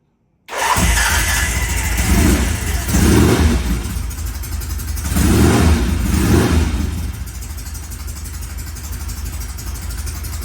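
A Norton motorcycle's electric starter cranks and the engine catches, then runs and revs in a few loud surges before settling to a steady idle, with no talking.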